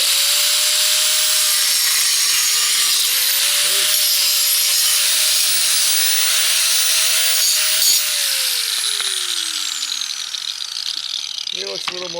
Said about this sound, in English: now I'm just going to get my little grinder here and clean it up